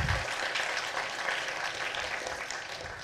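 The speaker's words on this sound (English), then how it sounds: "so let's applaud for Jessica." A crowd at a college reunion claps steadily and evenly for about three seconds, filling the room with dense applause.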